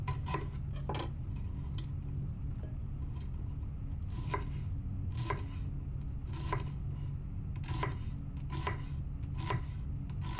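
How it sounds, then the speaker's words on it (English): A knife slices thinly through onions on a cutting board, a steady run of sharp, close chopping taps against a low background hum, with no talking. "after about 3 or 4 onions in, you're going to feel very confident with your knife skills"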